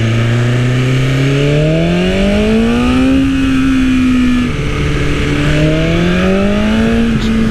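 An ECU-flashed 2020 BMW S1000RR revs hard while being ridden in second gear, its engine note climbing through rising sweeps, dipping, then pulling up again, loud and close with no talking.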